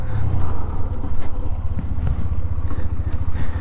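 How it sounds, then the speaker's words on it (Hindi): Hero Xtreme 125R motorcycle cruising at about 40 km/h, its engine a steady low drone with road and wind rumble, close and continuous throughout. "अभी लगभग 40 की स्पीड पे बाइक हमारी चल रही है"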